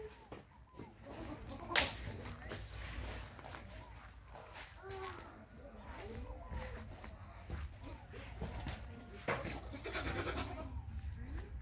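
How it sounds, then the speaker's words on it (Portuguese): Goats bleat repeatedly nearby in green rural countryside amid rustling movement and footsteps, with a few sharp cracks and faint voices in the background. "E a Sarinha tá ali com as cabras"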